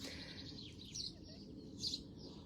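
A few small birds chirp now and then at a distance, bright short tweets over a quiet outdoor hush.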